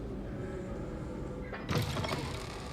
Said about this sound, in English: I hate those damn doors, they don't open fast enough.